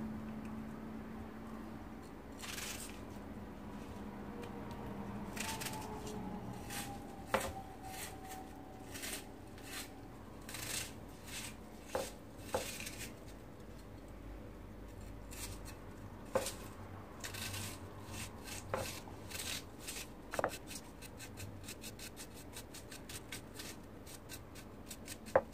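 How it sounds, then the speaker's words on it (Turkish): A kitchen knife finely chopping an onion for a yeasted minced-meat börek, heard as a quiet, irregular series of sharp taps against a board, with no talking. "Soğan doğrayacağım bir tane."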